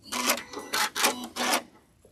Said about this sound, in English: I'm going to fix my stitches, and it's just going to sew right there